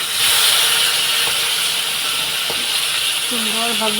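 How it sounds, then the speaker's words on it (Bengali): Fish pieces fry in hot oil in a home kitchen, a loud, dense, steady hiss close to the pan, with a voice briefly speaking near the end. "এই যে আমি মাছগুলোকে ভেজে নিচ্ছি সুন্দরভাবে"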